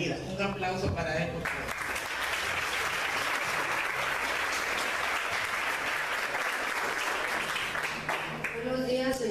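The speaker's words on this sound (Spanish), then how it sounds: "Un aplauso para él." Audience at a school sixth-grade closing ceremony breaks into sustained applause, a broad even wash of clapping lasting several seconds, with brief speech before it starts and again as it fades.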